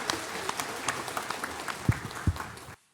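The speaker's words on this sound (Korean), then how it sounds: "박수로 하나님께 드리겠습니다." Church congregation clapping during a Sunday worship service, a short, fairly quiet patter of hands with a few sharper claps, ending abruptly.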